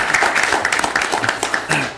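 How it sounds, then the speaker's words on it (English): Attendees at a Texarkana board of directors meeting give a short round of applause honoring long-serving fire department members, a brief burst of clapping with voices mingled in. "Give them a round of applause."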